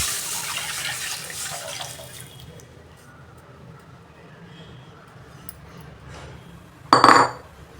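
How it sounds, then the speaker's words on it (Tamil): Soup liquid splashes and pours steadily into a pan for about two seconds, then quiet simmering follows before a single metallic clink. "சூப்பு தண்ணியை அதில் ஊற்றிடுறேன்"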